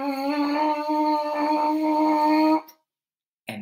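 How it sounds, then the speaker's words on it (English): A brassy buzz through a trumpet mouthpiece holds one steady pitch for a couple of seconds, then cuts off into silence before a short sound resumes. "once we get good at that, we can put that buzz onto a mouthpiece"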